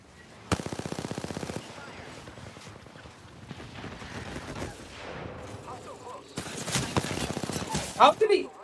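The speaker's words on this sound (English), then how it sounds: "I am taking fire, friends." Gunfire in the Apex Legends video game: a rapid automatic burst, then a stretch of mixed game noise with muffled action, then further bursts of shots. Game voice lines sound faintly underneath.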